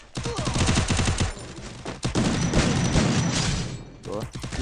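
Rapid bursts of video game gunfire, loud close shots and automatic fusillades crackling in clusters with brief gaps, while players talk over the shooting.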